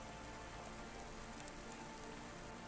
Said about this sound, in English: Don't let all the rain get you down.